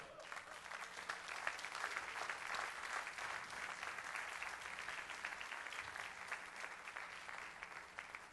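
Continuous applause from a church congregation during a sermon, a thick, steady patter of many hands clapping that holds at an even level for several seconds, fairly quiet overall.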